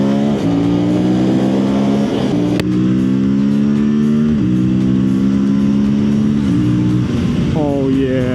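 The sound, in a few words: Aprilia RS457 sport bike accelerating during test ride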